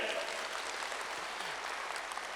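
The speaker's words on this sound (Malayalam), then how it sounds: "ഒന്ന് കൈയടിച്ചാൽ ഗംഭീരാട്ടെ" Audience at an awareness class bursts into dense, even applause, a short burst of many hands clapping together at moderate volume, filling the room throughout.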